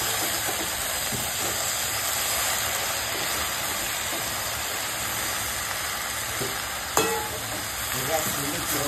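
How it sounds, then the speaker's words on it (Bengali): Leafy greens sizzling and frying in a pan, cooked with fish head, a steady close hiss running throughout with a brief clatter near the end. "শাকটা দিয়ে দিল, শাকটা দিয়ে মরিয়ে নিচ্ছে"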